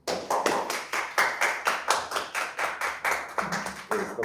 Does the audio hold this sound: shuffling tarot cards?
no